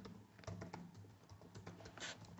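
Soft, steady typing on a computer keyboard, a quick run of light key clicks at close range with no talk.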